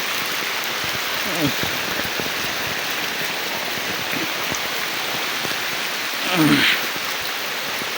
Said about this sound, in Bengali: মুসলধারে বৃষ্টি হচ্ছে আর পানিও আস্তে আস্তে বৃদ্ধি পাচ্ছে